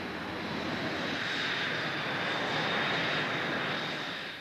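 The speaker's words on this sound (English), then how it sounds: "Harry's first Hornet flight begins." Steady, loud roar of a Hornet jet fighter's engines during a test flight, a broad continuous rush holding level for several seconds with no voices.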